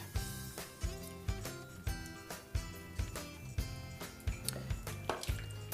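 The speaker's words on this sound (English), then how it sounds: "You want to drain this slightly to reduce the water content." Liquid from a can of fire-roasted diced tomatoes drips and splashes in irregular pulses as it drains, close and quiet, with no one talking.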